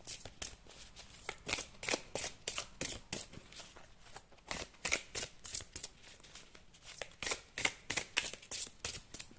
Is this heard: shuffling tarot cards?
yes